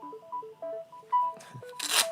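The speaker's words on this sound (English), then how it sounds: "That's my phone, by" A phone ringtone plays a short melodic sequence of bright tones in a quick pattern, followed by rustling and handling noise toward the end, moderately loud with no speech.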